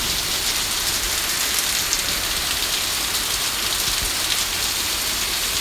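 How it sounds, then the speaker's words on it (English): Heavy rain pours steadily outdoors in a yard, running like a river across it, a dense, even hiss of drops hitting surfaces that never lets up. "It's raining like crazy."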